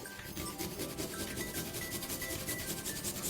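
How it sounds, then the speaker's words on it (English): Garlic being grated on a hand grater, a steady continuous rasping scrape that stays close and fairly even for a few seconds, with no voices. "Now I'm going to grate my garlic and ginger."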